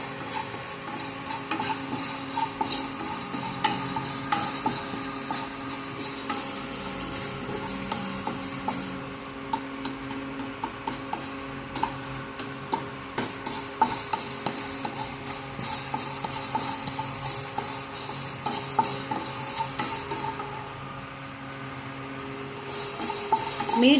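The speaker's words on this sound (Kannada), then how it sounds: "ಅಕ್ಕಿ ಚೆನ್ನಾಗಿ ಫ್ರೈ ಆಗ್ತಾ ಬಂತು" Raw rice dry-roasting in a pan for homemade sambar powder, stirred continuously with a steady scraping, rattling texture and faint crackle, fairly close and alone.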